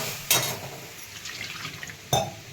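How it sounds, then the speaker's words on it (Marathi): A little water poured into spinach curry cooking in a pan, two short splashing gushes with light clinks and drips between them, close and fairly clear. "थोडंसं पाणी टाकून घेते."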